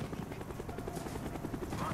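Helicopter overhead in the video game Call of Duty: Black Ops, a steady thudding rotor beat with a low rumble, under game speech.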